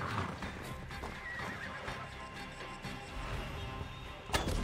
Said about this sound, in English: Fast mobile horse.